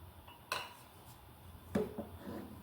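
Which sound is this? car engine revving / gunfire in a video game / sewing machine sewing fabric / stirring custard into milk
stirring custard into milk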